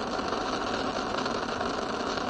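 Space Shuttle Discovery's three liquid-fuel main engines roaring during launch, a dense, steady broadband roar with no pauses, heard from a distance.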